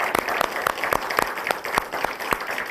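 Audience applause for a man of Portuguese popular culture on a fandango TV show, a steady clapping crowd with sharp, fairly loud claps throughout.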